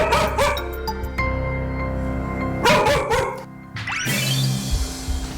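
A dog indoors in a family home barks in repeated loud, close bursts with sharp yips, pausing briefly between volleys, and a final higher whining bark toward the end.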